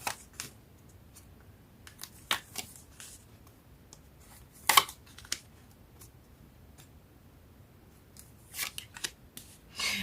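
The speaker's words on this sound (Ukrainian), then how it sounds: "Всі карти відкриваю." Sparse, soft papery snaps and flicks of tarot cards being handled and laid out, with quiet pauses between them in a hushed room.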